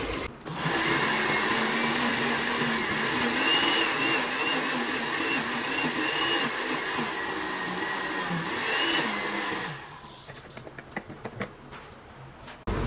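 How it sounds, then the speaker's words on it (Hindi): A blender grinds spinach to a smooth paste with a loud, continuous motor whir. It runs steadily for about ten seconds, then cuts off, leaving scattered small clicks and knocks. "अब मैं पालक को ग्राइंड करूँगी"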